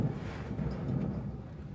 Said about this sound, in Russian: И до сих пор гремит гром, и даже вот молнии сверкают.